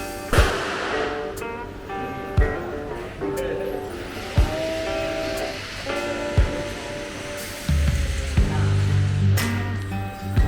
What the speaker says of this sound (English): probably you can hear it in the background, that gunshots